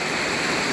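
Heavy rain pours down steadily in overgrown woods, a dense, loud, unbroken hiss with no pauses and no voices.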